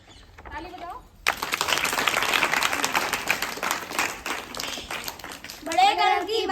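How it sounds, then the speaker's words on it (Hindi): Schoolchildren clap together at a school biodiversity presentation, a burst of group applause starting abruptly after a brief voice, fading unevenly, with children's voices returning at the end. "ताली बजाओ।"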